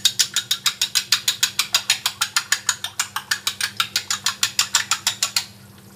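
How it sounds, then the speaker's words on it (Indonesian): Eggs are beaten fast in a bowl, giving a steady run of about twenty-five sharp, evenly spaced clicking strokes at close range that stop abruptly near the end. "ini kita kocok telurnya"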